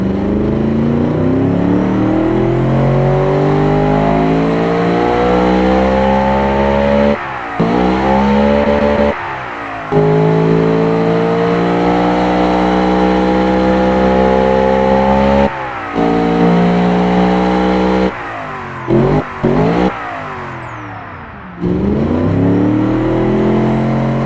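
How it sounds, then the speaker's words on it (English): A loud, deep V8 engine revs repeatedly, rising and falling in pitch with brief gaps between blips, close and powerful throughout. "the noise is always brutal when it comes to the V8"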